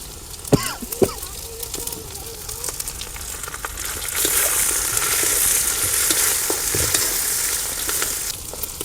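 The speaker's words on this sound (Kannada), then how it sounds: "ಸ್ವಲ್ಪ ಚೆನ್ನಾಗಿ ಫ್ರೈ ಮಾಡ್ಕೊಂಬಿಡೋಣ." Lemon rice ingredients frying in a hot pan, a continuous bright sizzle that swells louder partway through, with a few knocks of stirring near the start and no talking.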